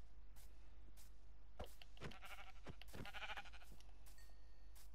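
Several short sheep bleats from Minecraft, close and distinct, spaced irregularly over a steady low hum of game background noise.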